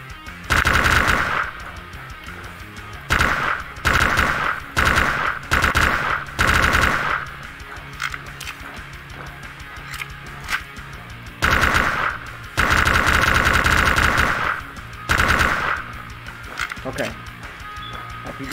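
Loud automatic gunfire in the video game SlendyTubbies 3 comes in repeated bursts of rapid shots separated by short pauses, with a player talking over it.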